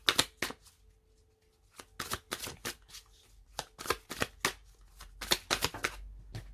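Oracle cards from a Lionne deck being shuffled and drawn, a run of crisp papery riffles and slaps coming in irregular bursts, close and fairly loud against a quiet room.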